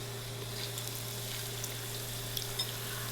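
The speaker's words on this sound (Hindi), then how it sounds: "हमारा ऑयल रेडी है तो हम अब फ़िश को फ्राई करना शुरू करेंगे।" Fish pakora in batter frying in hot oil at medium heat: a steady, quiet crackling sizzle with a few soft pops, and no talking.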